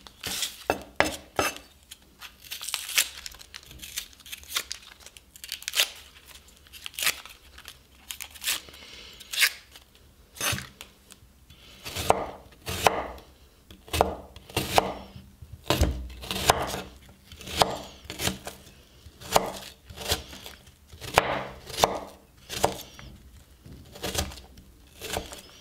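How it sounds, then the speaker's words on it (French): A knife chops an onion on a cutting board in a kitchen while cardoon is being prepared, making a run of sharp, close knocks that quicken into rapid, irregular bursts. "Je vais couper l'oignon."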